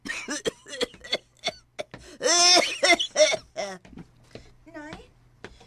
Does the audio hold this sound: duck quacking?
no